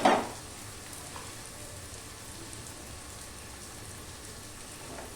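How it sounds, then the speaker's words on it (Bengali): Onion and mushrooms frying in a pan: a steady, soft sizzling crackle throughout, fairly quiet and continuous, opening with a brief louder clatter. "দেখো মাশরুম দিয়ে একটু ভেজে নিচ্ছি।"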